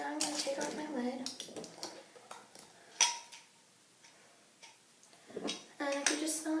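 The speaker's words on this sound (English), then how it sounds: "So now I'm going to take off my lid." A homemade beachy-wave hair spray bottle has its lid twisted off with a few soft plastic clicks and handling taps. A short quiet pause follows, then more clatter, with a voice talking nearby.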